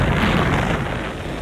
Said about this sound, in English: Rambo jumps off the cliff into the water from the explosion.